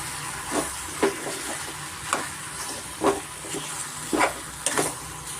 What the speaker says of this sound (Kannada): ಆಲೂಗಡ್ಡೆ ನೋಡಿ ಚೆನ್ನಾಗಿ ಫ್ರೈ ಮಾಡ್ಕೊಬೋದು ನೋಡಿ